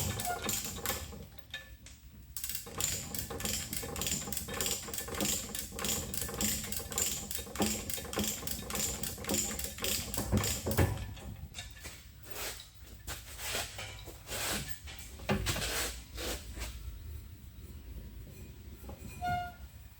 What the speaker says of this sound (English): I'm just turning the pulley input drive just to make sure everything's somewhat